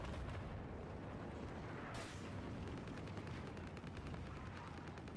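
An M39 EMR sniper rifle fires a single shot in Battlefield 4, a sharp burst standing out about two seconds in against dense, steady, loud battlefield rumble and distant gunfire.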